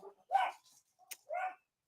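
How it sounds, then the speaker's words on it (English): A dog barks a few times indoors, sharp close yips and a whimpering bark, with short gaps between them and no talk. "that was my dog"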